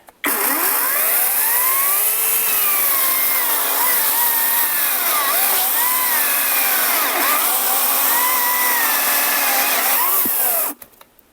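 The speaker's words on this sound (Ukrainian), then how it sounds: "пилка на другій швидкості достойно себе показує на сосні" A Grosser GCS 160 cordless chainsaw running at second speed and cutting through pine, a loud continuous whine that dips and rises in pitch as the chain bogs under load, stopping abruptly near the end.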